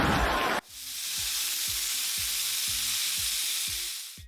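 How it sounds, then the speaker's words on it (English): Small pieces of marinated lemongrass pork belly hit a preheated pan with a sudden loud sizzle that holds steady and strong. Softer rhythmic scraping and stirring noises sound beneath it. "we can get it into a preheated pan and get cooking"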